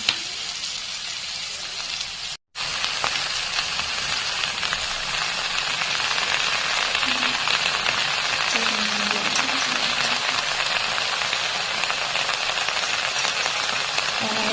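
Bottle gourd greens frying in a hot pan give a steady, dense sizzle that runs throughout, broken only by a brief moment of silence near the start, with no voices.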